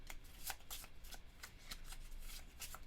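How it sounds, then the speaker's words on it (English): A deck of cards shuffled for a solo board game of Ugly Gryphon Inn, quiet close riffles and snaps in short irregular bursts, faint and alone. "let's go ahead and shuffle this just a little bit more"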